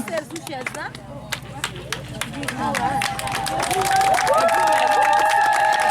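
An audience at a radio and TV program in Léogâne breaks into scattered, moderately loud clapping that builds over several seconds, mixed with crowd murmur and voices talking.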